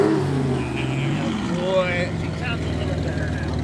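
Ferrari Testarossa, 599 and Porsche engines rev at a supercar meet, a steady deep exhaust drone with a rising rev partway through, under close talk.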